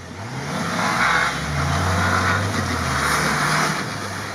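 A car engine revs and drives in a steady rising drone on a steep slope of frozen sand, close and moderately loud, with no talk.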